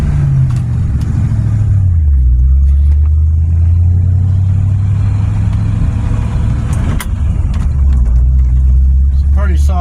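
An old manual-steering truck engine drones steadily as the vehicle drives on the road, its low rumble shifting pitch with speed and holding loud and close throughout.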